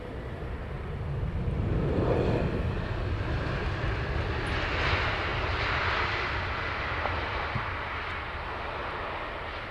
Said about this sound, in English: Aircraft inbound.